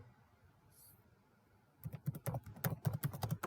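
Rapid clicking of a computer keyboard as C code is typed in Dev C++ on Windows, a close burst of irregular keystrokes starting after a quiet pause.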